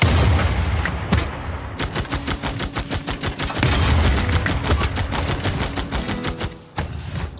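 A rapid volley of gunfire rattles in the strategy game Civilization VI, many sharp shots in quick succession with heavier booming bursts in between, loud and continuous with no talking.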